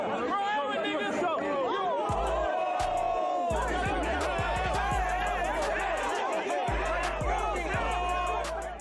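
A crowd goes wild at a rap show after the rapper punches a cameraman: dense, loud shouting and excited chatter from many voices fill the whole stretch, with heavy low thumps underneath.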